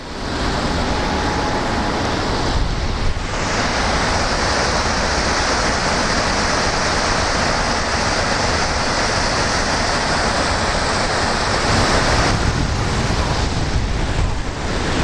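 The Great Falls of the Passaic River in New Jersey, a large high-volume waterfall, roars as a steady, dense, loud wash of falling water throughout, with no voices.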